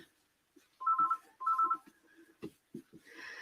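A mobile phone rings in two short electronic bursts, moderately close, followed by scattered thumps and faint handling sounds in a quiet room.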